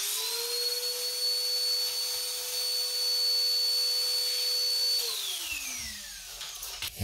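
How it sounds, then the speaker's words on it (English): A vacuum cleaner fitted with a crevice attachment draws air out of a Mylar bag of stored rice, giving a steady, loud motor whine that runs alone for about five seconds, then winds down as the motor switches off. "turn the vacuum on for just a moment."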